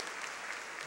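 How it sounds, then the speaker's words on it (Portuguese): Brief burst of congregation clapping in church during a sermon, a steady, even patter of many hands with no voices over it. "as palmas louvam ao Senhor"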